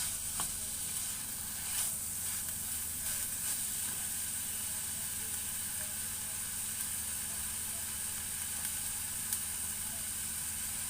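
Minced meat hits a pan of softened, frying onions, giving a steady, close sizzle and hiss with faint stirring scrapes, continuous for about eleven seconds with no voices.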